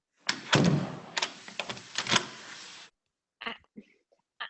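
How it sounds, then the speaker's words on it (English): A door closes in an old radio detective drama: a burst of handling clatter and a firm thunk, then silence and a few brief knocks or steps afterward. "Oh, close the door, Mrs. Jennings."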